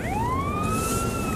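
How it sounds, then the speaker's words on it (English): Passing police car siren on a town street, a loud wail that rises sharply and then holds high, heard over a low road rumble. "Oh, there's another police car."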